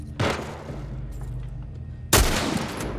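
Two sharp, booming shotgun blasts in The Last of Us Part I, about two seconds apart, punctuate a low rumbling game ambience. Each blast has a brief reverberant tail.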